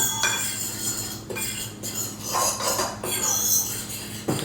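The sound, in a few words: mixing instant dry yeast into pizza dough in bowl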